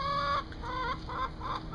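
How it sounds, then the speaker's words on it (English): Chickens in a backyard flock at a new coop cluck in a string of close, fairly loud calls, with short bursts repeating over a steady farmyard background and no talking. "Chickens are real nice. They're real friendly, social animals."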